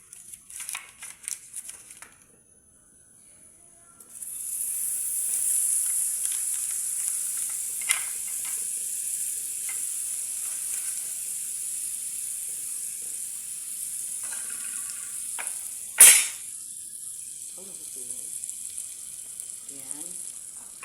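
Butter sizzling in a hot, dry frying pan before milkfish goes in, a steady bright hiss holding for most of the stretch with a brief louder flare near the end, after some handling clatter at the start.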